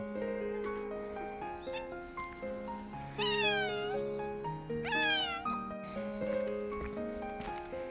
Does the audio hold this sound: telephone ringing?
no